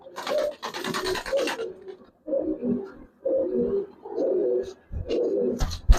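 Giribaz pigeons coo in a series of soft, throaty bursts, several rolling calls separated by short pauses, close by, with faint scratching and a sharp knock near the end.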